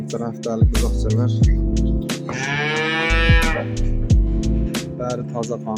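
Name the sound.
calves mooing in a cattle barn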